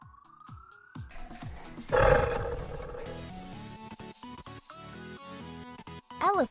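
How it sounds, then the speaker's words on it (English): A lion gives a single deep, loud roar that swells and fades over a few seconds against soft background music. "Lion."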